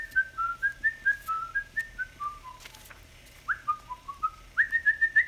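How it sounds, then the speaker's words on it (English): A person whistles a bright, wavering tune in a series of short rising and falling phrases, close and clear with no talk over it. "Mike is also whistling."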